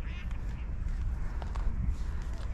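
A duck quacks several times in an evening park, faint and somewhat distant, under low background rumble and possible footsteps.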